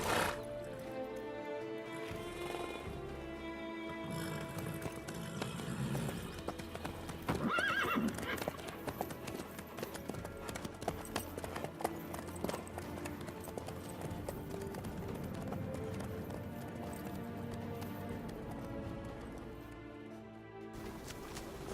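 Horse hooves clip-clop steadily at a gallop in The Witcher 3, with a whinny partway through, over game music and ambience that continue throughout.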